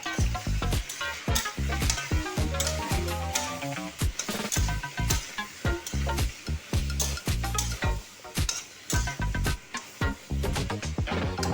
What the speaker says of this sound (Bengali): যেহেতু আমি জানি পটলটাকে তো ভাজতে হবে